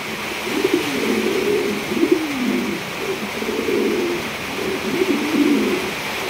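Pigeons, including lakkha pigeons, cooing steadily in a loft, several birds giving low rolling coos in overlapping bursts against a soft background hiss.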